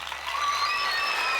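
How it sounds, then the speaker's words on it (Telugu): A group of people clap steadily and fairly loudly at an indoor gathering, with a continuous patter of hands and no voices over it. "క్లాప్స్, కమ్ ఆన్, గట్టిగా"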